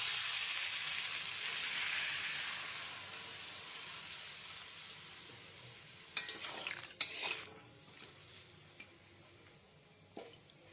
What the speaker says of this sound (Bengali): এবার সবজিগুলি হালকা নেড়ে চেড়ে এর মধ্যে দিয়ে দেওয়া হবে পরিমাণ মতো জল।